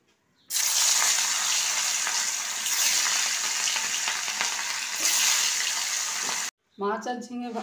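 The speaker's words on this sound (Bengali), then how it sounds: "পকোড়ার তেলেই আমি মাছগুলো ভেজে নেব।" Pieces of katla fish fry in leftover pakora oil, a loud continuous sizzle for about six seconds that cuts off abruptly, followed by a short burst of speech.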